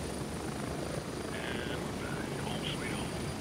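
A transport helicopter arrives in the military shooter game Gray Zone Warfare, a faint, steady rotor drone under a dense layer of background game noise, with a few brief higher tones drifting over it.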